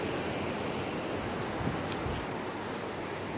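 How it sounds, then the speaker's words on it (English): Ocean water washes against rocks right beside a building, producing a steady, loud roar of surf and wind noise with a faint swell in the middle and no talk. "the water literally hits these rocks right here"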